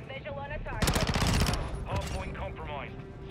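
Burst of rapid automatic gunfire from a PDSW 528 submachine gun in Modern Warfare 2, loud and close for about a second, followed by scattered shots, with someone talking over it.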